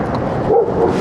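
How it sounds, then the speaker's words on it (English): A dog barks beside the road during an early-morning ride, a short bark rising above steady wind and road noise. "Doggy!"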